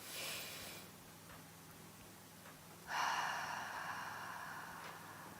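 A slow breathing cycle during a stretching routine: a soft nasal inhale followed by a longer, airy exhale through the mouth, close and quiet, with no talk.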